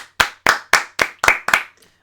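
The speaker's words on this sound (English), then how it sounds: "Round of applause for Harry, anyway" Six crisp, evenly spaced hand claps from a single person on a podcast, close and distinct with short silences between, ending with a faint trailing tap.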